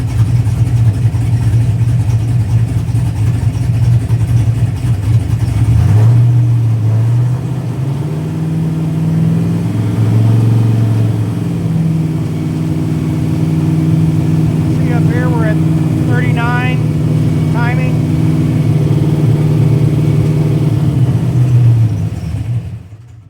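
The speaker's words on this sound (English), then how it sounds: "So we're going to rev it up here in a second and then see if it'll come back to idle or not." A Pontiac GTO engine rumbles at idle, then revs up and holds a raised, steady drone before settling back down, loud and close, with someone talking over it.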